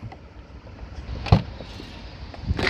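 Boot of a Mercedes-Benz E220 D saloon being opened: a soft mechanical clunk of the latch, then a second thud a moment later, close up over quiet background.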